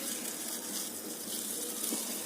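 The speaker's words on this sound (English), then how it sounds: "Let it come to a boil. Water is now boiling." Water boils in a pot on the stove, a steady close hiss with a soft bubbling wash that stays even throughout, with no talking over it.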